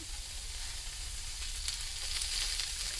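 Field beans (avarekalu) sizzle steadily in a hot pan after oil is added, a continuous bright frying hiss that holds close and even throughout with no voices.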